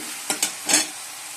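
Soybean chunks being stir-fried in a pan with potatoes, three short scraping stirs with sizzling in between, close and alone.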